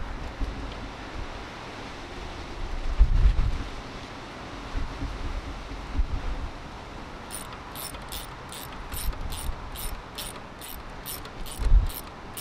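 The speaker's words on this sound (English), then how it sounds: "We just gotta tighten this belt again." Tightening the belt on a 1996 Toyota Camry engine gives a steady series of quick, crisp ratchet clicks later on, with soft thuds and rustling handling noises over background hiss.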